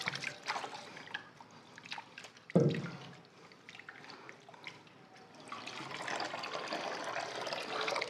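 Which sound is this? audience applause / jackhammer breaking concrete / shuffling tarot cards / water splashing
water splashing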